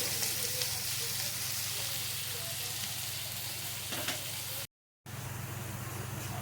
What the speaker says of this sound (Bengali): পেঁয়াজটা দিয়ে একটু লাল করে ভেজে নেবো